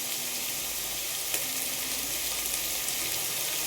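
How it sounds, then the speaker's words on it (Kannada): Tomato rice ingredients frying in a pressure cooker, a steady close hiss and sizzle with faint stirring clicks, heard alone without talk. "ಇವಾಗ ಚೆನ್ನಾಗಿ ಫ್ರೈ ಆಗಲಿ ಅದು."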